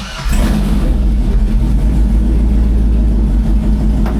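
A GMC Sierra pickup with a swapped-in 6-speed transmission labors in reverse, its engine straining with a loud, steady low rumble that holds evenly after a brief start.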